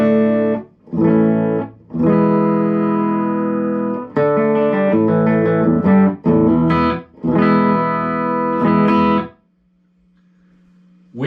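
Electric guitar played through a Fender Bassbreaker 15 combo amp at its lowest gain structure with no reverb, loud and close: strummed chords and short phrases with abrupt stops, ending in a faint sustained hum.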